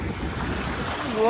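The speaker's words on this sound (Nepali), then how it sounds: "यत्रो धेरै पानीको छाल हानेर कति पानी खाइसक्यो" Muddy sea waves breaking at a beach where people are swimming, a brief rushing wash of surf with wind buffeting the microphone that swells louder at the end.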